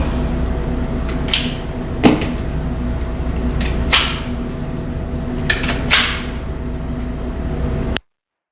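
Pistol firing Winchester 147 grain ammunition from a Magpul magazine: several sharp, loud shots spaced irregularly over a steady outdoor background, each with a short reverberant tail, and no talking.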